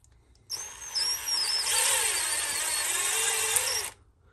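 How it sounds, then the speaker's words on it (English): A power drill with a 7/64 bit whines steadily for a few seconds, its high-pitched motor squealing and shifting slightly as it bores through plastic, then stops. "So I'm just going to slowly drill it out"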